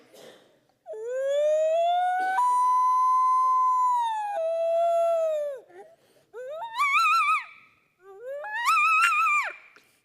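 A hunting call blown by a man imitates a siren, with rising and falling wails held for a few seconds and then two shorter swooping whoops, loud and close, with no talk over it.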